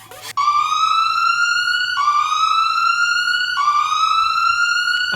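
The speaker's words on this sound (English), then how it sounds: "I even recorded some real sirens." Recorded real emergency siren wailing steadily in long repeating tones, each rising slightly before resetting, loud and close with nothing else heard.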